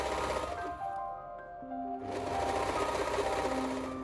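A straight stitch sewing machine runs steadily while elastic is sewn onto the top edge of a tube swimsuit, a continuous close whirring hum that dips briefly mid-run before resuming.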